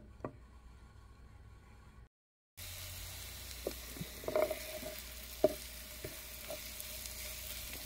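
Butter and garlic fry in a pan for a Thai canned-fish basil stir-fry, giving a steady soft sizzle with occasional light clicks and taps of a utensil, after a brief silent break.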